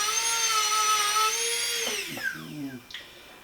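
A rotary tool whines at a steady high pitch while fine polishing a custom sports mouthguard, then winds down and stops, followed by brief scraping and handling noises up close.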